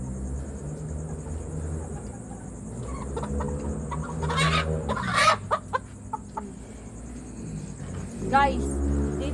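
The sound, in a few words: pet chickens clucking while being dewormed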